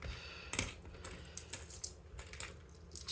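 Coins drop into a paper savings envelope: a sequence of close, bright metallic clinks and jingles, irregular and quick, without any talking.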